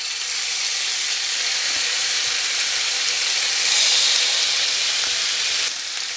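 Beef Bihari kebabs frying in a pan give a loud, steady sizzle and hiss that swells slightly midway, continuous with no talking.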